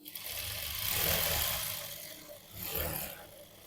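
Sewing machine stitching a double-layered buttonhole on a princess-cut blouse, a soft close whirring run that rises, dips briefly and starts again, with no talking.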